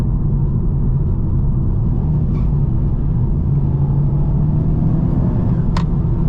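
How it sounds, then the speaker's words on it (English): A 2017-21 Honda Civic Type R with a small 2-liter engine, engine braking while driving: steady loud low rumble of engine and road noise heard from inside, with a couple of brief faint clicks and no speech. "Because it's just a little 2-liter, engine braking is not fantastic."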